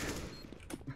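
Gunfire from the Counter-Strike: Global Offensive video game, a quick burst of rapid shots packed into about a second, fairly faint beneath the game's background noise.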